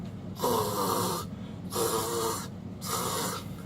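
Three long snore-like rasping breaths, each about a second with short pauses between, voiced by a person imitating snoring, close and fairly loud.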